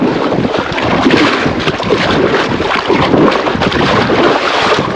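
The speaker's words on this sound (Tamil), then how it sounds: "பார்த்தீங்களா, பயங்கரமாக காற்று எலும்பு ஸ்டார்ட் பண்ணுது." Strong wind buffets the microphone in a loud, continuous roar with gusty surges throughout, outdoors near Bhavanisagar dam in rural Tamil Nadu.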